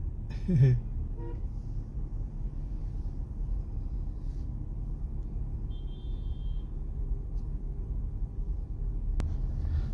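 One short vehicle horn blast sounds near the start amid late-night city traffic, followed by a steady low engine rumble.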